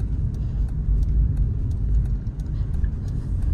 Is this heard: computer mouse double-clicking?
no